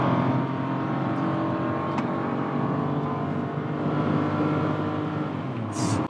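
A Kia Ray light car's engine drones steadily and strains under load while climbing a mountain road uphill, a continuous close cabin hum with no speech.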